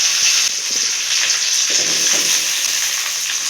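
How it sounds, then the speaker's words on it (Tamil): Small-cut okra pieces frying in oil in a pan give a loud, continuous hissing sizzle, steady throughout with faint bubbling underneath and no voices. "இது நல்லா எண்ணெயிலே வதங்கணும்"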